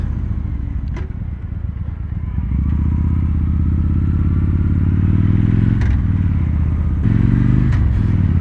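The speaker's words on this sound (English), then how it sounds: "just pulling the throttle for that very nice sound" Revving a 2016 Victory Judge motorcycle with a performance exhaust: a close, throaty engine idle swells into sustained throttle, with a few short blips and sharp clicks along the way.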